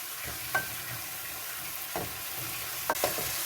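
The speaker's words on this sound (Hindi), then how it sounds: "हम अपने मसाले को फ्राई कर रहे हैं" Masala spices frying in a pan for mutton magaz masala, with a steady low sizzle and a few soft stirring scrapes against the pan, heard close and alone.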